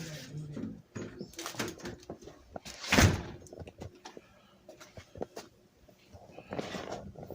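A door swings open with a single loud thunk near the middle, amid scattered knocks and faint outdoor noise on a slushy Louisiana day.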